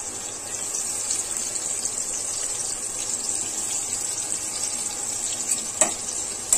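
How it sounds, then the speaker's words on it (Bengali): Garlic paste and chopped garlic frying in a pan with biryani spices and fried onion, giving a steady, close sizzle with a couple of sharp stirring clinks near the end and no talking. "এবার রসুন বাটা রসুন কুচিটা দিয়ে দিলাম"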